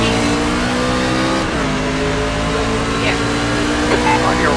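A rookie-class racing truck roaring at the green flag at Watkins Glen, its engine loud and droning with rising pitch as it accelerates, heard close from inside the cab.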